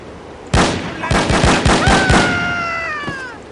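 Unsilenced gunshots in the spy shooter No One Lives Forever: a loud opening crack, then a quick run of about half a dozen sharp shots with a high ringing tone trailing behind them.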